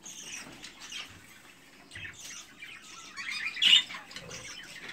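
Budgerigar chicks, hand-feeding young offered for sale, chirp and squawk in a continuous busy chatter with a louder burst of calls near the end, heard fairly close without talk.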